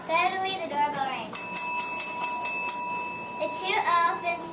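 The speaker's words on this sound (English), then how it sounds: "Suddenly, the doorbell rang." A bright bell rings for about two seconds as a doorbell in a children's story, a sustained metallic chime between stretches of a storyteller's voice.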